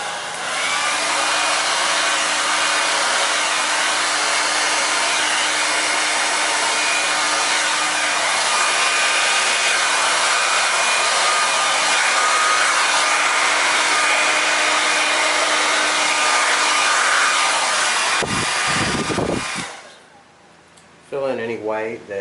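A hair dryer blows paint across a canvas to shape a wave, a loud steady whooshing roar that runs continuously for about eighteen seconds before cutting off, followed by brief quieter handling sounds.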